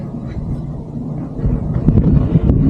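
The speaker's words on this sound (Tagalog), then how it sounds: "Lakas ng hangin." Strong wind at a cemetery, gusting and buffeting against the microphone with a low rumbling roar that grows heavier and rougher toward the end.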